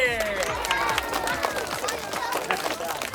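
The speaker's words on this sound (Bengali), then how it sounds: "হাততালি হবে" Children and audience clapping at a school magic show, a brisk sustained round of applause mixed with crowd voices and cheering, fairly close and loudest at the start.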